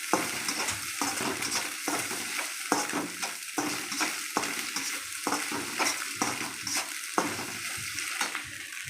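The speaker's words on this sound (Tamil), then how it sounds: "பச்சை வாடை போக வேண்டி வதக்கி எடுத்துக்கிறோம்" Masala being sautéed in a pan to cook off its raw smell: a steady sizzle with rhythmic scraping and stirring strokes of a spoon against the pan, close and continuous, with no voices.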